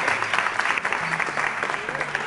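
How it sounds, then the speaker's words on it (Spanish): Crowd applause in a Latin American Spanish film comedy, continuous clapping with a faint voice or tone drifting beneath it, steady throughout. "¡Un aplauso ahí!"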